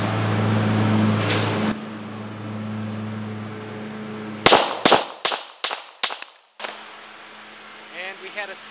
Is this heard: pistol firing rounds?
yes